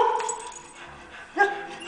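A dog gives a couple of short, quick barks and yips at close range, with faint sounds in between.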